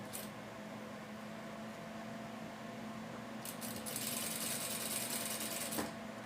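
A sewing machine stitches the border of a fabric dish towel with a soft, steady mechanical hum, then speeds into a louder rapid whir partway through, close by and with no talk.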